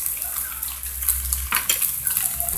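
Ground meat filling with tomato paste being stirred in a pan for savory snacks, giving soft scraping and clinking of a utensil against the pan with faint sizzling throughout, no talk.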